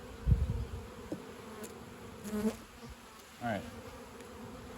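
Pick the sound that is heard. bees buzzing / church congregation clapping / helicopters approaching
bees buzzing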